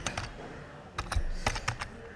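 Typing on a computer keyboard, with short bursts of crisp, close key clicks in an uneven rhythm and brief pauses between them.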